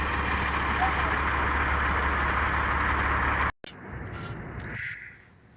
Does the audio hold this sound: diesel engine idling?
yes